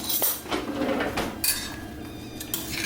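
A spoon clinks and scrapes against dishes in a home kitchen while green peppers are stuffed for Macedonian stuffed peppers, giving a few close, light metallic taps over steady background noise, with no talking.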